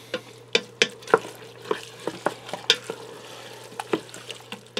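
A spoon stirs salsa into a taco casserole inside an Instant Pot, giving a series of sharp, irregular scrapes and knocks against the pot with a faint wet sizzle underneath, close and fairly quiet with no talking.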